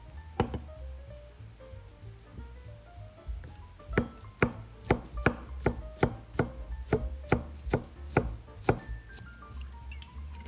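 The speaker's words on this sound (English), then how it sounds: "Mince a few garlic cloves." Garlic cloves being minced with a knife on a board, with a run of crisp, evenly spaced chops that start sparse and settle into a steady rhythm of about two per second, close and clear.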